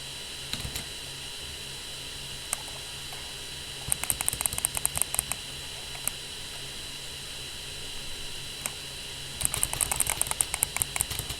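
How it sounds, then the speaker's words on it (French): Clicky keystrokes come in quick flurries over a steady hiss, with scattered single taps between bursts of rapid typing. "clavier mécanique qui fait beaucoup de bruit"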